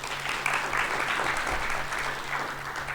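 Steady applause from a large science conference audience, dense and sustained clapping throughout with a faint low hum underneath.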